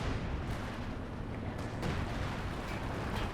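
Artillery shells pound a battlefield in the game Company of Heroes 2 on the Essen Steelworks map, a steady rumbling roar broken by a few dull distant impacts.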